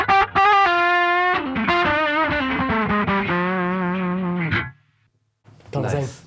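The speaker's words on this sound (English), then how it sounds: "it's just pitch shifted up, and put a bit of drive on and basically just sound a bit like a guitar." A pitch-shifted effects unit with added drive gives a guitar-like, distorted lead tone, playing sustained wavering notes that cut off abruptly before a short burst returns at the end.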